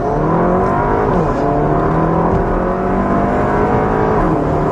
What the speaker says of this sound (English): press your left foot on the brake and kick the throttle, and then we have launch control, so let's go.